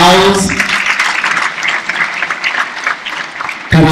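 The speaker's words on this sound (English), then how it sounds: "please give him a very big round of applause." Loud, sustained applause from the audience at a Model UN opening ceremony in Tanzania, dense clapping filling the hall nearly throughout before breaking off abruptly near the end.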